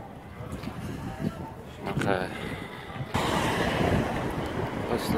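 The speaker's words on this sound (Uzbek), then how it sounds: "Nimagadir bugun ob-havo juda sovuq bo'lib ketdi, shamol kelyapti." Cold wind gusts along a street in Korea, a steady rough roar buffeting the microphone that swells louder and stays strong through the second half.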